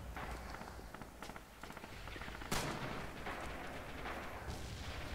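Gunfire in the World War II shooter game Rising Storm: distant, faint rifle and machine-gun shots crackle over a noisy battlefield bed, with one sharper nearby crack in the middle.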